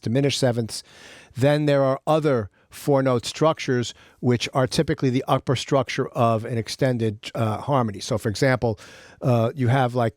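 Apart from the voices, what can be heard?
No everyday noises stand out.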